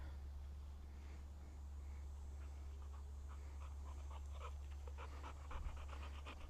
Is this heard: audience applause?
no